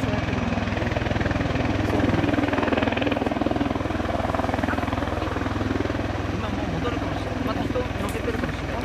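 An MV-22 Osprey tiltrotor training low over mountains gives a dense, continuous rotor throb and engine roar, loud and steady throughout, with people talking beneath it.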